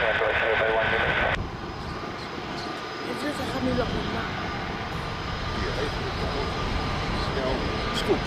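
An airliner on final approach to runway 02 at Lisbon Airport, a steady broad engine roar holding through the clip with a brief louder radio burst at the start and voices faintly around.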